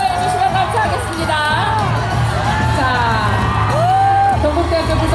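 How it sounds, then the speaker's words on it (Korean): Large outdoor crowd cheering and whooping at a Buddha's Birthday lantern parade, with a loud, continuous wash of voices and shouts under an amplified announcer talking over the street noise. "우리 시민 여러분 큰 박수 부탁드립니다."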